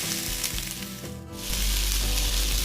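Chopped onion and tomato sauté in a hot pan for chutney, a dense steady sizzle that swells louder partway through as the mix is stirred, with no talking.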